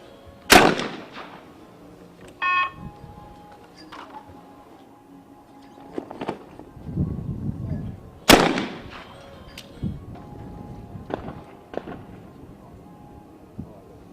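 Two sharp, loud shotgun blasts about eight seconds apart ring out at an ISSF World Cup trap shooting final, a mixed-team event in Cyprus, each with a short echoing tail over quiet outdoor ambience.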